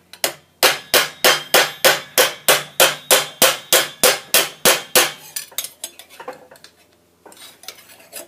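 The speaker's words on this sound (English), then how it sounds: "I'm moving my material around with the hammer" Hammer blows shape a 14th-century-style knee armour plate over a ball stake: about fifteen loud, evenly spaced metallic clangs, each ringing briefly, then a few softer, irregular taps and scrapes.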